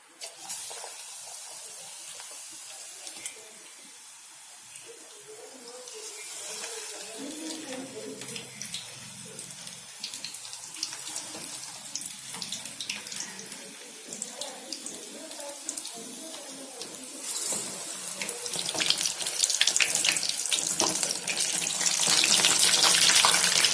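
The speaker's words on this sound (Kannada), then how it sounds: "ಇವಾಗ ನಾನು ಮೆಣಸಿನ್ಕಾಯಿನ ಬಿಡ್ತಾ ಇದ್ದೀನಿ" Green chillies dropped into hot oil to fry as mirchi. A steady, close sizzling hiss with crackles grows gradually louder over the clip, with no talking.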